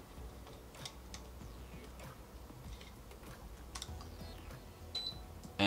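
Keys tapped on a computer keyboard to switch an air conditioner through an Arduino: faint, sparse clicks in a short irregular burst over a quiet room hum.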